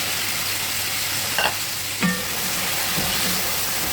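Onion and two medium tomatoes fry in a pan for an Arabic luham rice dish, giving a steady close sizzle with a couple of brief clinks of a spoon stirring.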